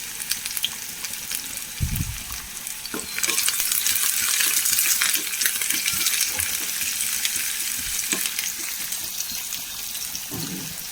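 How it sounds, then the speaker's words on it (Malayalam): Chopped shallots and fresh curry leaves sizzling in hot coconut oil in a pan, a crackling fry that swells loudly after a few seconds, with occasional clinks and stirring scrapes, no talking. "ചട്ടിയിൽ വെളിച്ചെണ്ണ ഒഴിച്ച് വെളിച്ചെണ്ണ ചൂടായിട്ടുണ്ട് ചെറിയ ഉള്ളി അരിഞ്ഞത് ഇട്ട് കൊടുക്കാം കുറച്ച് കറിവേപ്പില ഇട്ട് കൊടുക്കാം"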